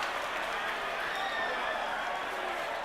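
A crowd roars in a replayed live stream recording, a continuous broad wash of cheering and applause that holds at an even level for the whole stretch.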